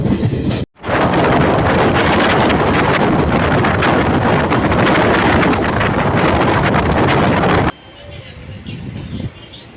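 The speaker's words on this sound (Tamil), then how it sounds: "இப்போ நம்ம வண்டி மணவூர்லேருந்து கிளம்புது" A train pulls away from Manavur station on a Chennai to Tiruvannamalai run, heard from aboard as a loud, steady rush of rumble and wind noise that drops suddenly near the end to a quieter interior hum.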